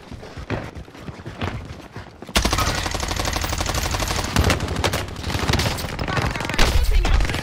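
Sustained automatic gunfire from a multiplayer firefight in Call of Duty Warzone on Rebirth Island, scattered shots at first, then dense continuous rapid bursts, loud and close, with a faint voice under the opening moments.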